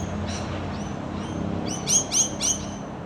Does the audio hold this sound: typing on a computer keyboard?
no